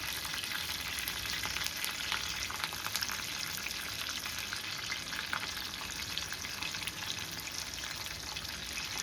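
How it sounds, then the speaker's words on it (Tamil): Kelanga fish fries in oil on a tawa, giving a steady, dense sizzle that holds at an even level throughout, close and with no one speaking. "இப்போ மீனை தவாவில் போட்டு வறுக்க ஸ்டார்ட் பண்ணிடலாம்."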